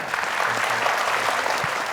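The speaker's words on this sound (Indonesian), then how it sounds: "terima kasih tepuk tangan untuk saya" Applause from an audience at an Indonesian televised Quran recitation competition, a steady dense clapping that fills the whole stretch evenly, fairly loud and close, with no talk over it.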